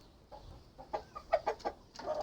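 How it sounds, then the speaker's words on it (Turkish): White village chickens cluck softly inside a coop at dusk, a short series of close, quiet clucks rising in a small cluster, with no voices. "Şu beyaz köy tavuğu."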